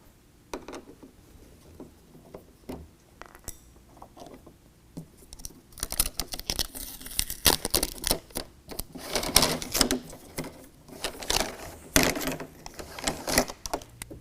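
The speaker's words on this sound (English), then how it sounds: "we're gonna remove this Phillips head screw that holds the shipping bracket in place" Phillips head screw being backed out of a shipping bracket on a RetraxONE MX tonneau cover for a 2019 Chevy/GMC 1500 pickup, with sparse clicks at first, then dense, irregular ratcheting and rattling that grows louder and close by.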